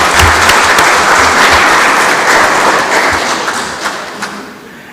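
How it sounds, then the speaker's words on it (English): Applause from delegates at the 39th APIL general assembly caucus, a dense sustained clapping that fills the room from start to finish, tapering slightly toward the end with a few louder thumps. "a round of applause."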